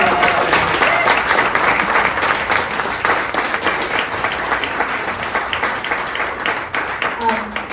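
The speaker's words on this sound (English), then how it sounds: "So let's just start by a big round of applause for Christy." Steady, dense applause from an audience, loud and sustained throughout with many hands clapping at once.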